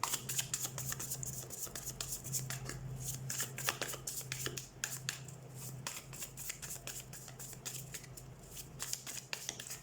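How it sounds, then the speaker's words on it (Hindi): Tarot cards shuffled by hand in a steady run of crisp riffling clicks and flutters, quiet and close, with a faint low hum beneath and no talking. "सबसे पहले हम कार्ड शफल कर लेते हैं"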